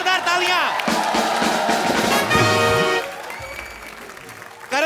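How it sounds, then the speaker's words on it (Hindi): A studio audience claps loudly for Karan Johar on a comedy talk show, steady applause with a few cheers for about three seconds, then fading as voices speak. "चलो एक बार करण सर के लिए जोरदार तालियां"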